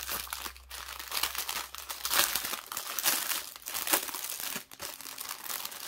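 Continuous close-up crinkling and rustling of a plastic zip bag from a diamond painting kit being handled and pulled open, with crisp bursts of crackling throughout.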